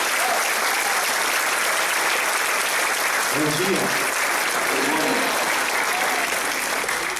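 Sustained church congregation applause, dense and loud, filling the whole stretch, with a short spoken greeting briefly heard through the clapping.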